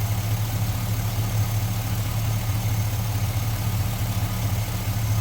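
A Chevrolet Silverado engine idles with a steady low rumble and even, continuous hum, close and unchanging throughout with no voices.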